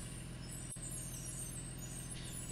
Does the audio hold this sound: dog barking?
no